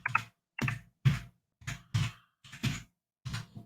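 Seven separate bursts of computer keyboard typing come up close, each a quick cluster of clicks and clacks with short silent gaps between them and no voice.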